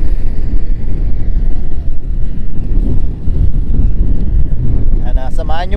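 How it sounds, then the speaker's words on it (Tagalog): Strong wind buffets the microphone with a low, rumbling roar over open water aboard a boat, continuous and loud, with a brief voice at the very end. "mahangin na naman mga kabayan"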